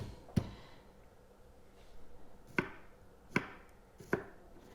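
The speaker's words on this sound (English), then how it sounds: "Chop, chop, chop." Knife chopping garlic on a cutting board while making chili: four sharp, separate chops spaced irregularly over a quiet background, close and moderately loud, with no talking.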